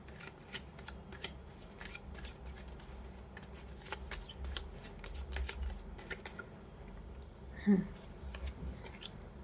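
Tarot cards shuffled by hand in a steady run of crisp riffling flicks, close and clear, with a brief thump near the end.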